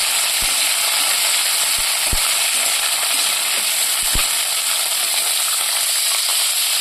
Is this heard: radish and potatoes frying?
yes